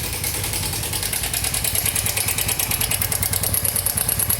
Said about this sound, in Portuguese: Está com barulho no motor, estaremos resolvendo e mostrando para vocês aí.